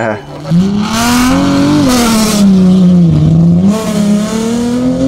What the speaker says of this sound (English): The Datsun 280Z sports car of Piers Dakin, co-driven by Tariq Malik, also lit up the tracks